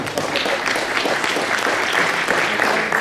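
An audience at a community meeting claps for a few seconds, a dense, steady burst of applause from a roomful of people, fairly close and even in loudness throughout.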